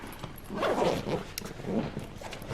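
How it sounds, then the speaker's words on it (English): A backpack zipper is drawn closed by hand, two rasping strokes with short pauses between, close and moderately loud, with no talking. "and just zip it up."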